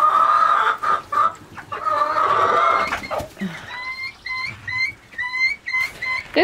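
Silkie chickens cluck noisily in a coop, a close, busy run of clucks and squawks in an uneven rhythm that turns into a string of short repeated calls toward the end.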